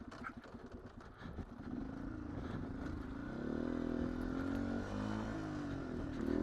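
A 2019 Beta 125 RR-S two-stroke dirt bike rides flowy singletrack in the wrong gear, its engine buzzing steadily and rising in pitch as it revs, close and loud throughout.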